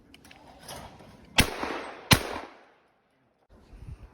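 Two sharp shotgun reports fired as a true pair at sporting clays over open bluff scenery, less than a second apart. Each is loud and close, with a ringing tail fading into quiet outdoor ambience.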